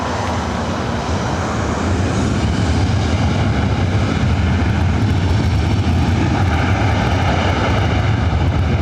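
An Alaska Airlines Boeing 737-800, 14 years old, takes off from runway 24R at LAX, its jet engines a loud, steady broadband roar that holds constant and close throughout, with no talk over it.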